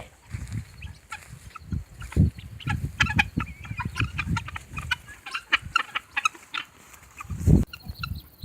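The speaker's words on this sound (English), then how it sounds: "Guineas are just getting on my bad list real quick." Guinea fowl calling close by in a farmyard, a run of sharp, repeated chattering cries with a few louder bursts standing out, and no talking.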